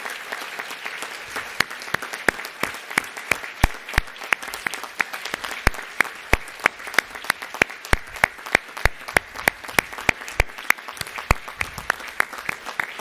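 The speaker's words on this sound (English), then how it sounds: "Could you stand up and give a round of applause to your supporters on the live stream" An audience at a medical school white coat ceremony applauds, with many hands clapping steadily and sharp individual claps standing out near the microphone, continuous for over ten seconds.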